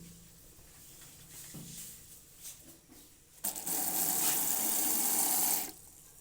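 Broth is poured into a pot of mushroom soup on the stove: after quiet kitchen clatter, a steady splashing pour starts abruptly, runs for a couple of seconds close by, then stops.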